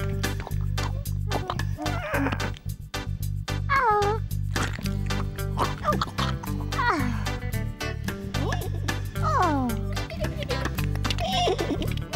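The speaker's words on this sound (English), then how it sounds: "Ah, it's a kitten." A cartoon kitten meows several times in a children's animated picnic scene, the cries rising and falling over continuous music and light voices.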